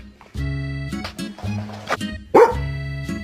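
A pet dog barks close by in a quick, uneven series of sharp woofs and yips, with one louder bark standing out among them.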